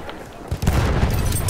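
Gunfire and explosions rage in the video game Battlefield 1, a quiet stretch giving way to a loud, dense fusillade of overlapping shots and booms.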